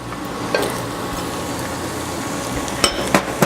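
Onion goes into a hot pot of foaming fat for corn chowder, raising a close, steady sizzle punctuated by a few sharp clanks of a utensil against the pot, with no talking.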